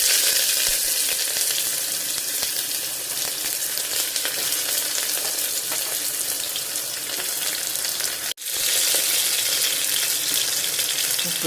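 Fennel, bay leaf, two green chillies and a large onion sizzle steadily in hot oil as a tempering for vegetable rice, a continuous loud frying hiss with a brief dip near the end.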